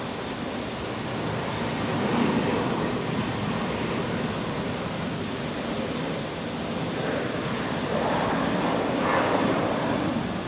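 A Jetstar Boeing Dreamliner taxiing at Brisbane airport, a steady broad jet engine roar heard from a distance that swells slightly in places, alone with no talking.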